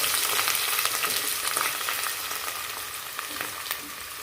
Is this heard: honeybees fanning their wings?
no